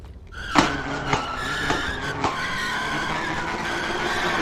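Car in a GTA roleplay video game revving its exhaust while skidding, with sharp tire squeals and several distinct engine bursts over a continuous engine roar, close and loud.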